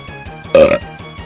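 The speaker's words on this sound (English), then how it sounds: "I'm starting to burp of nervousness" A single loud, short burp stands out over quiet background hum.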